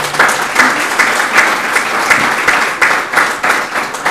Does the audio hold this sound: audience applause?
yes